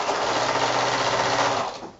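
A sewing machine runs fast and steadily while stitching quilt strips, giving a continuous rapid mechanical whir that slows and stops near the end.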